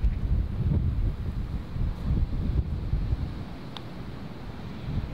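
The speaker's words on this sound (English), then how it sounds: "I'm just struggling to hold this tripod, it's really windy." Strong wind on an open golf course blasts the microphone with a steady low roar that swells in gusts throughout, with no one speaking.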